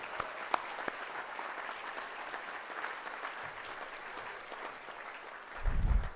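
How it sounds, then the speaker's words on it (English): Crowd applause at a 4-H livestock judging awards ceremony at NAILE 2022, steady clapping from many people at a moderate distance, continuing evenly with a low thump near the end. "One more round of applause, please, for all of our contestants across all 3 contests."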